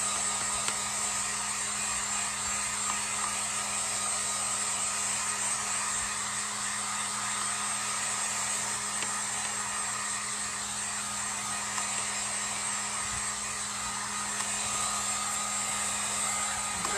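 A hair dryer runs at a constant pitch the whole time, blowing up close on wet yellow paint on a home decor piece, with no pauses or voices.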